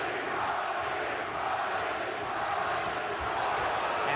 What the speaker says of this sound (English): Crowd coming alive for McGirt.